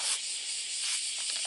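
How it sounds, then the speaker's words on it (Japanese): A broom sweeps a sidewalk in Fukuchi, Fukuoka, in soft, close scratchy strokes, layered over a constant high buzzing drone of summer cicadas. "ほうきではわいて寄せるだけの作業ですので、"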